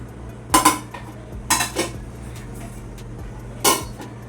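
Metal utensils clink and scrape against pots in a home kitchen while dal is reheated, three distinct clattering bursts spaced a second or two apart over a low steady hum.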